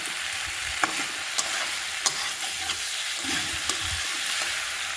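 Tomatoes sizzle steadily in a pan for a pork dish, cooked down over a long stir-fry, with occasional sharp clicks and scrapes of a utensil stirring through the constant frying hiss.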